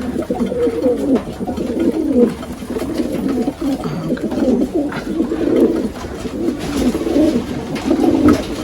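Soft, throaty cooing from pigeons repeats steadily throughout, several birds overlapping close by with a constant low hum behind them.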